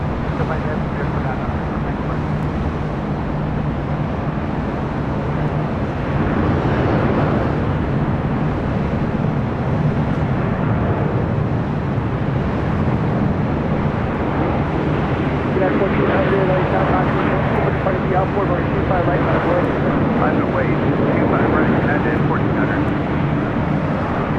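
A jet airliner rolls down runway 25 Left at LAX, a steady broadband roar that holds for the whole stretch and swells slightly midway, with voices faintly present over it.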